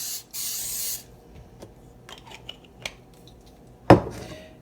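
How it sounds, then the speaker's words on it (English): A short hissing burst of cooking spray into a pan holding coconut oil, followed by a few quiet clicks and a sharp metallic clank of a pan or utensil. "I'm going to go ahead and spray this"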